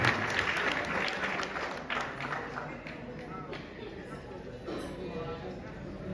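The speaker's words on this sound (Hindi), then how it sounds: "जोरदार ताली गुजरात के भाइयों के लिए।" Audience at a national unity camp in Ujjain claps for the brothers from Gujarat, a moderate, fairly distant round of applause that gradually thins, with voices mixed in underneath.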